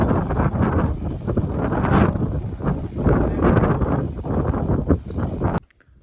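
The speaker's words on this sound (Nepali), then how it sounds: "हावा चाहिँ दामी चल्दैछ।" Strong wind buffeting the microphone on a hilltop hiking trail from Dhotrey to Tonglu, a loud continuous roaring rumble that runs for several seconds and then cuts off abruptly.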